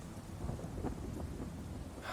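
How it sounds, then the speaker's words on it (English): Heavy rain pouring steadily with low rumbles of thunder rolling underneath, fairly quiet and close, with no speech. "It's getting heavier, the rain."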